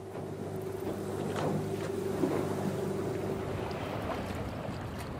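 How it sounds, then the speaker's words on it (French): An aluminium fishing boat with an outboard motor crosses a lagoon off a Tokelau atoll, a steady motor hum mixed with wind and water rush throughout, no voices. "Nous sillonnons le lagon avec les pêcheurs qui utilisent de nos jours des barques en aluminium équipées de moteurs hors bord."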